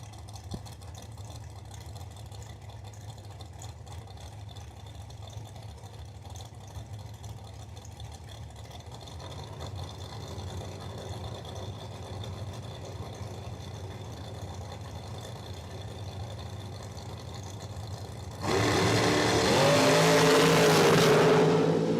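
A dragster at a Cordova Dragway Quarter-Max points drag race idles with a low, steady rumble for most of the time, then launches down the strip in a sudden loud, sustained roar near the end.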